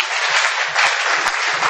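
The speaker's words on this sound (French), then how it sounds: "On acclame très fort pour le roi des rois." Congregation at a church service applauding loudly and steadily, a dense wash of claps with scattered cheers throughout, close and sustained.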